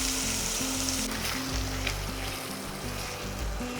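Ground spice paste with tomato sautéing in hot oil for an egg curry gives a loud, continuous close-up sizzle with a faint low hum underneath.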